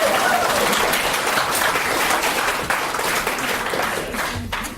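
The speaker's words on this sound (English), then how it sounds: "Oh, you're going to clap already." A crowd at a poetry reading bursts into loud, dense applause, continuous clapping that stays full and close before easing slightly near the end.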